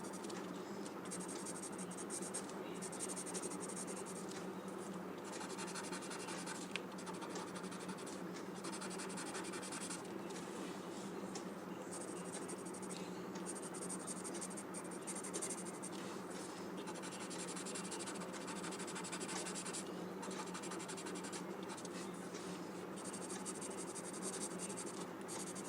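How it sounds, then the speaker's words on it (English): A pencil shades graphite onto paper for a Zentangle drawing, a soft, continuous scratching and rubbing heard up close and faint, with short pauses between strokes. "just adding graphite on one side"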